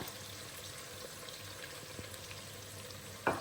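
Curry leaves and crushed chilli fry in oil as the base for a beef curry, making a faint, even sizzling hiss that is low and steady throughout, with a brief louder crackle at the end.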